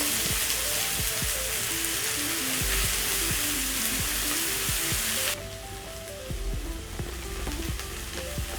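White onions frying in a pan until soft, a steady close sizzle and crackle throughout, slightly quieter partway through, with faint stirring and no talk.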